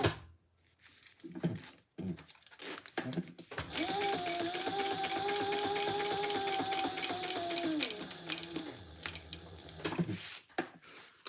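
A sewing machine stitches a fabric bag with a short stitch length, starting with a few brief bursts, then running in a steady rapid whirring rattle for several seconds before slowing to scattered stitches.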